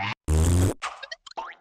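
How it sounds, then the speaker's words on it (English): A loud, blatting fart noise effect from a comedy trivia game, made as a raspberry, heard in several sputtering bursts with short gaps, close and alone. "you make a fart noise at them, aka a raspberry"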